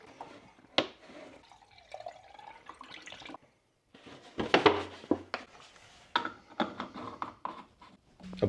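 Distilled water is poured into the cooling system of a 997 Porsche 911 Turbo, heard as irregular gurgling, splashing and dripping bursts, close by, with a short silent pause partway through.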